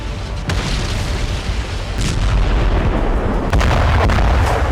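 Mortar and artillery fire in the Russia–Ukraine war, around Zaporizhzhia, forms a dense, loud rumble broken by several heavy booms and blasts spaced a second or two apart.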